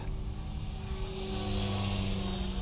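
A steady, droning rotor-and-motor whine of an Align T-Rex 470LP model helicopter hovering close by, continuous and even, with no voices.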